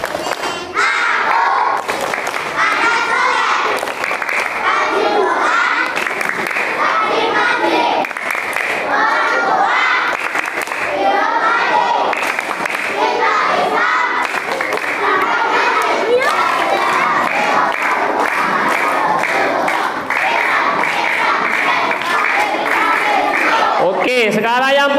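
Boys in a crowd of children perform a rhythmic clapping chant, loud voices shouting in unison over bursts of clapping, continuous and energetic throughout with a cheering, rowdy feel.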